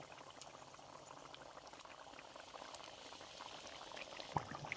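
Bean fritters go into a pot of boiling curry, and the quiet, steady bubbling and liquid burble carries on with a small splash near the end.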